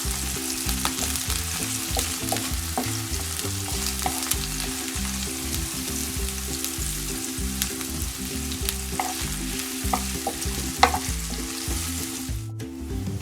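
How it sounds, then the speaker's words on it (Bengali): Onions frying in about two spoonfuls of oil in a pan on the stove, a continuous dense sizzle with rhythmic stirring scrapes throughout, close and steady with no talking. "এর জন্য আমি একটা প্যান চুলায় দিয়েছি, দিয়ে দিলাম পেঁয়াজগুলো।"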